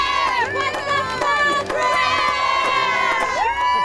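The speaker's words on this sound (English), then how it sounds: "We're hearing the cheering." Crowd cheering and shouting at a Talk of the Town event while nails are being driven in, loud and continuous with excited voices and whoops rising and falling over a steady roar.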